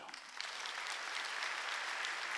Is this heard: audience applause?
yes